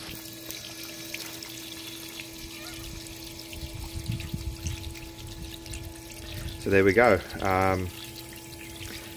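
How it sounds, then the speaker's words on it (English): A small scheduled water pump drains water out with a steady low hum and soft trickling flow throughout, and someone speaks briefly near the end. "I can just show by switching on the schedule now, and it will pump the water out."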